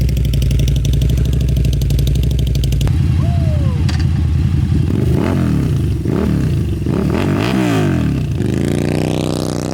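A KTM RC8 1190 R sport motorcycle engine running, a loud deep throbbing idle that cuts off and then returns with rising and falling revs, close and dominant, with no talking.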